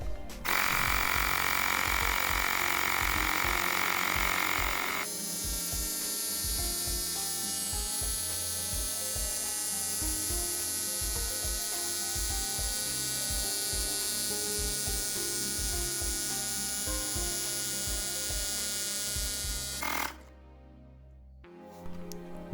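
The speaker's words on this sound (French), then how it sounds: "Elle fait pas mal de bruit quand même, cette pompe" A small electric pump inflates a Dualtron Thunder 2 electric scooter tire to 50 PSI, a loud, steady buzzing drone with rhythmic pulsing that runs for about twenty seconds, changes pitch partway, then cuts off abruptly.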